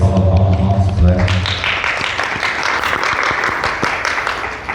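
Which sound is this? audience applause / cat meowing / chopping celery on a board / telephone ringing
audience applause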